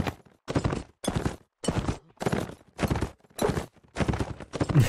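Hooves of a horse clopping in the video game Mount & Blade Warband: loud, close, regularly paced thuds arriving in short groups separated by near-silent pauses.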